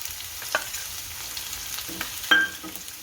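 Ginger frying in a pan, a soft steady sizzle broken by a few light clinks and scrapes of a spoon against the pan.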